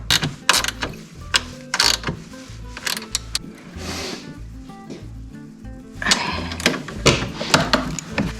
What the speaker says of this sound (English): So now I'm gonna go back and tighten down all of the bolts.